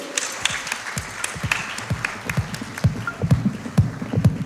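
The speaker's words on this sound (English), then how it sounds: "Round of applause, guys." Audience applause greets a guest walking on stage at the FICCI FRAMES 2024 inaugural session, a dense, steady patter of many hands clapping in a large hall.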